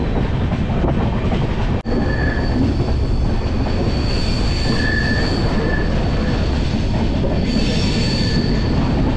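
A train rolls into Sevoke railway station on the Sealdah to Totopara route, a loud, steady rumble of wheels on rails with faint squealing tones rising and fading, close and continuous.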